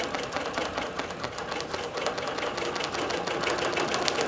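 A digital quilting machine stitching fabric with contrast thread runs steadily up close, giving a fast, even mechanical chatter with no pauses.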